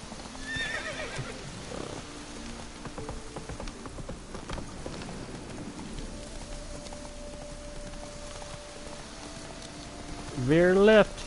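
Geralt's horse Roach in The Witcher 3 gives a loud, rising whinny near the end, after a stretch of hoof clip-clop and faint rain, with someone talking over the scene.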